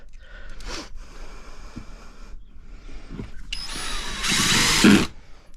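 A power drill drives screws into deck boards while a platform beside a garden allotment cabin is rebuilt. The whirring comes in several bursts: a short one, a steady run, a brief one, then a louder, longer final drive up close.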